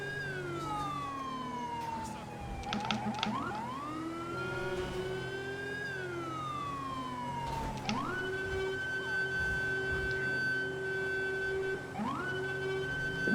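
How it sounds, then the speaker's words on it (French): A police siren in the video game LSPDFR, set in New York, wails in long rising and falling sweeps, then holds a steady high tone, loud and close over a low engine rumble. "Désolé pour cette sirène insupportable, mais c'est les sirènes"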